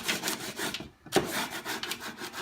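A straight-edged piece of wood is rubbed along punched metal to scrape off burrs, giving repeated close scraping strokes with a brief pause midway.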